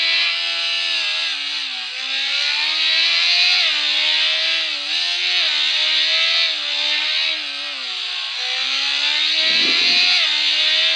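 A motorbike engine in the Traffic Rider video game revs hard and continuously, a loud buzzing drone that rises and dips in pitch as the bike speeds along, with a brief low thump near the end.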